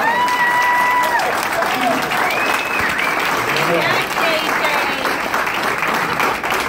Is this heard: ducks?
no